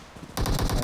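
Rapid automatic gunfire with fire bullets in a shooter video game bursts in loud and sudden after a brief quiet lead-in, then continues as a dense, steady volley.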